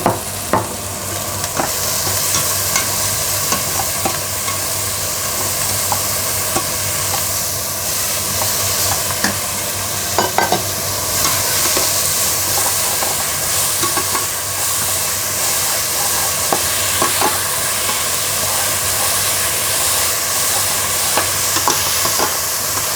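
Onions and tomatoes fry in a pot for a vegan one-pot pasta, a steady, fairly loud sizzle and hiss with occasional stirring taps, continuous throughout.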